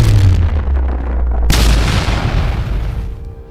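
A loud, booming explosion in a fantasy audio drama, set off as dragon-clawed hands block a blow and the ground around is shattered: deep rumble, then a sharp burst midway with a long, fading roar, no voices.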